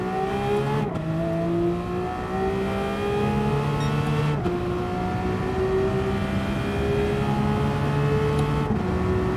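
A car engine in Gran Turismo 7 revving hard and climbing steadily, with brief dips at each gear shift before rising again, loud and continuous with no talk.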